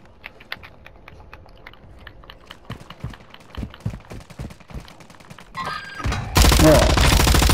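Gunfire in the video game Warzone 2, a scattered run of sharp cracks and bursts that builds into dense, loud sustained firing toward the end.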